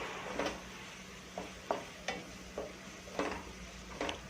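Spice masala of red chilli powder and onion-garlic masala being stirred for paneer tikka, with soft irregular scraping and clinking strokes against the bowl at a steady unhurried pace, close and fairly quiet.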